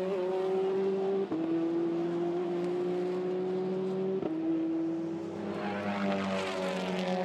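A Hyundai Elantra TCR race car lapping Spa circuit in qualifying, its engine screaming at high revs with two sharp upshifts, then a dip and a gear change as it brakes into a corner.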